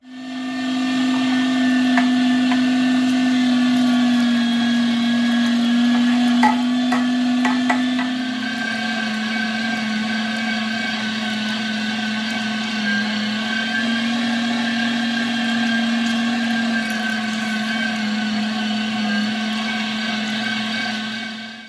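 A LEM Mighty Bite #8 500-watt electric meat grinder runs steadily while grinding meat, a loud continuous motor drone with a slight pitch dip partway through, nearby and without pauses.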